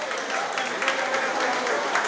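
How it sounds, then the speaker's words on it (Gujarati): Steady crowd applause at a youth prize-giving and felicitation ceremony, dense and continuous for the whole stretch at moderate level, with no pauses. "જોરદાર તાળીથી પાડો"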